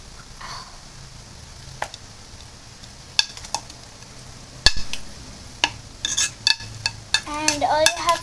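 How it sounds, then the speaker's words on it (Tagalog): Burger dough is mixed by hand in a bowl with irregular scraping, stirring and clinking of a utensil against the dish, quiet at first and growing busier and louder toward the end. "It's like this is the dough and you're supposed to mix it because it's so hard."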